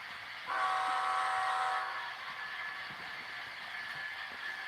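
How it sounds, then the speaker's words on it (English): Model train with an Intermodal ET44 locomotive on a layout: a steady rumbling running noise with a short tonal horn blast near the start, continuous and moderately loud. "here comes a locomotive I really like. It's a Intermodal ET44."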